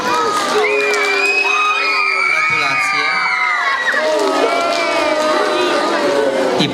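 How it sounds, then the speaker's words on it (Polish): A crowd of children cheers and shouts with shrill, overlapping whoops at a school award ceremony, a loud sustained roar of joy that barely dips throughout. "Co za okrzyk radości, coś niesamowitego, brawo."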